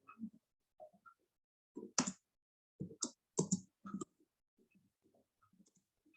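A few quiet, separate keystrokes on a computer keyboard while entering a database query, sparse taps with short pauses between them.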